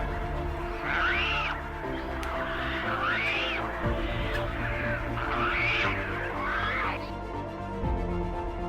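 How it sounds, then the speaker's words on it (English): An African fish eagle calls over a Nile River setting, giving four or five ringing, yelping cries in a row at mid distance over a steady low background, with no talk. "The African fish eagle, often referred to as the African sea eagle, is a majestic and unmistakable symbol of sub-Saharan skies."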